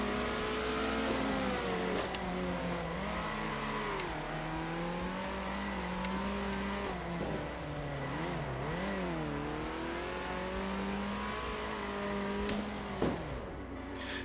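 Race car engine in Circuit Superstars, revving and accelerating steadily at close range, its pitch climbing and dipping through gear changes and corners, with faint tire noise and no talk over it.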